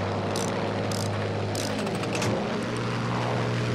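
A BF 109 G6 propeller fighter's engine drones loudly and steadily in Battlefield V, a continuous buzzing roar with no talk over it.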